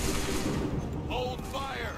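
Musket volley in Assassin's Creed III Remastered: a dense, loud burst of overlapping shots at the start, followed by a fading rumble, with shouted voices over the tail.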